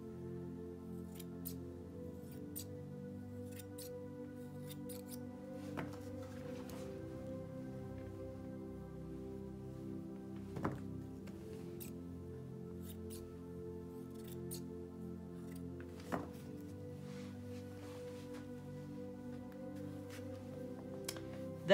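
Scissors snip faintly and sparsely through a dog's feathering during a field-trim groom, with soft isolated cuts spaced over a steady low background hum.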